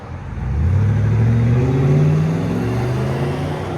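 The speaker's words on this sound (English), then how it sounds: "They see me recording, they start revving" A 2004 Chevy Silverado SS 6.0L V8 pickup with a Carven R-Series exhaust revs up with a deep, throaty roar, rising in pitch and holding loud before easing back off, close by.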